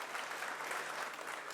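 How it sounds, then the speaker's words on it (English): Audience applause for a speaker at a seminar, a continuous even wash of many hands clapping at moderate distance, with no voices over it. "A big round of applause."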